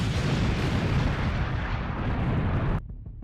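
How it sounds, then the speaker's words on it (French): Explosion from a HIMARS missile strike hitting two Russian artillery systems, a sustained loud rumbling roar that stays dense and heavy for nearly three seconds and then cuts off abruptly to quieter residual noise. "Voici la destruction de 2 systèmes d'artillerie S-5, frappés par un seul missile HIMARS."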